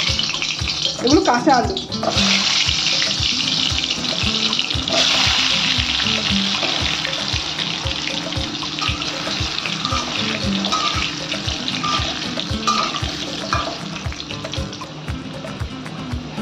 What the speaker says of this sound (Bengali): আমি হলুদ মাখিয়ে নিয়েছি, দিয়ে এই তেলটার মধ্যে আমি এগুলো ভেজে নেব।